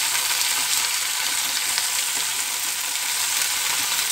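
Garlic and onion frying in hot oil, a loud, continuous bright sizzle and crackle with no pauses, close up and without any speech.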